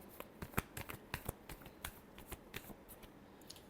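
Tarot cards are shuffled by hand in soft, quick riffles and slaps, a light papery rustle with sharp taps at irregular intervals, close but quiet, with no voice.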